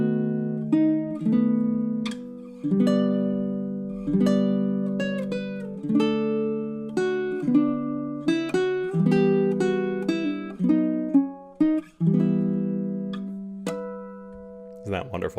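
Greensleeves played as a chord melody on baritone ukulele from measure 12 to the end, a continuous run of plucked and strummed chords that ends on a sustained final chord, with no talking.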